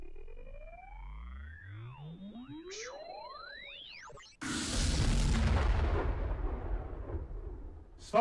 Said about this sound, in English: Stop wasting laser shots.